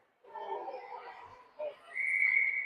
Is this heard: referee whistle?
yes